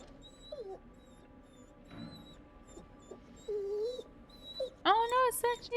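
A dog whimpers and yips in the horror video game The Devil in Me, with high-pitched whines rising and falling, several brief cries, and a louder whining burst near the end; a person talks over parts of it.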